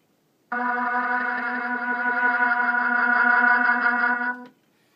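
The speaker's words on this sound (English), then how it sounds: "This is the Sequa delay version." A sustained, droning vocal tone passes through a Kaoss Pad Seek Wah delay effect, holding steady for about four seconds before cutting off with a brief trailing repeat.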